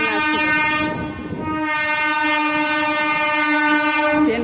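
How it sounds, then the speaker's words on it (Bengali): A train rolls past nearby, its horn sounding long and loud as a steady tonal blare over a rumbling rail clatter. "ট্রেনটা আছে দেখতে পাচ্ছ"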